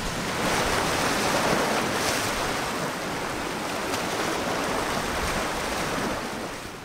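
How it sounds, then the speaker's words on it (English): Waves crash steadily against the rocky coast and sea caves of the island of Vis, Croatia, a loud, continuous roar of surf mixed with wind buffeting the microphone, fading slightly at the end. "the size of the waves that are happening behind us"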